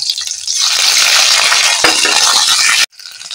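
Ginger paste hits hot peanut oil with green chilli and five-spice seeds, giving a loud, dense, continuous sizzle with a brief stirring scrape before it cuts off abruptly.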